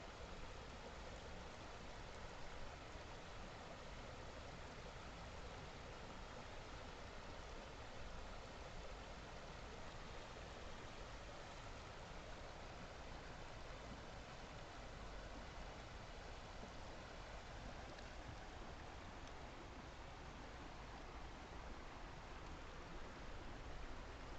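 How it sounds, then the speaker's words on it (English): Rushing creek water flowing beneath a pony truss bridge, a dense, steady broadband wash that stays even and continuous throughout with no voices. "It's really peaceful down here, really quiet, except for the rushing water right now."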